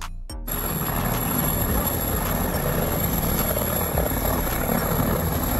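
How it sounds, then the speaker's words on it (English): An ambulance rescue helicopter's rotor chops and roars steadily after a brief quiet start, a loud continuous whir that stays even to the end. "Ambulance helicopter, emergency rescue helicopter."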